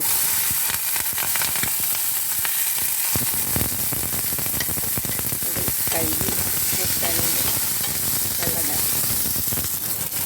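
Mustard seeds and green chilies frying in coconut oil produce loud, dense sizzling with scattered pops and stirring sounds, while someone talks over it.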